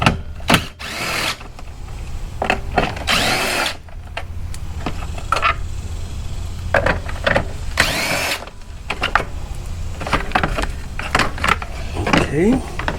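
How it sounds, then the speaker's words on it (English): A power drill whirs in several short bursts while a Yard Machines push mower is taken apart, close and loud, with workshop clatter between the bursts. "I do have the drill real handy right here. Speed this up a little bit."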